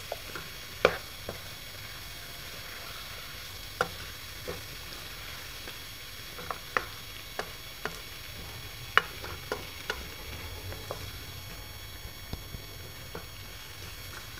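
Diced medium potatoes and fenugreek leaves stir-frying in a pan for aloo methi, a soft steady sizzle broken by scattered sharp clicks of a spoon scraping the pan, close and quiet, with no talking.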